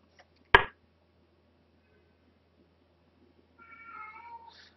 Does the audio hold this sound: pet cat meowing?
yes